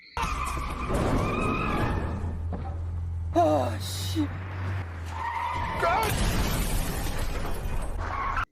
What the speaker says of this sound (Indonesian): akhirnya kendaraan bertabrakan satu sama lain